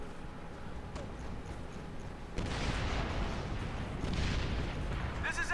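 A grenade-launcher-style weapon in Operation Flashpoint: Red River fires and booms, a sudden heavy blast that lifts the battle noise midway and leaves a rumbling wash of combat sound afterward.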